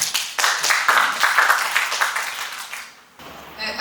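A forum audience claps in welcome for a presenter, a burst of applause lasting about three seconds that fades out before a short low hum returns.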